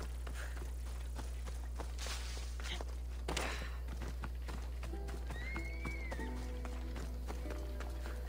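Horse in the video game Assassin's Creed Odyssey, hooves clip-clopping in a soft irregular rhythm followed by a short whinny, moderately close over a low steady game hum.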